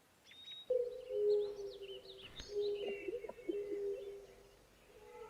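An owl sound effect hoots in a long, steady, low cooing tone within a night-time Minecraft sound-design scene, with faint high chirps and tweets scattered above it and no voices.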